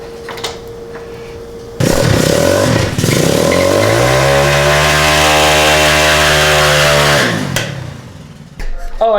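A Honda CBR600RR engine in a custom cross kart starts up close and loud, revs high, holds a strong steady tone, then winds down. Brief talk is heard before the engine fires.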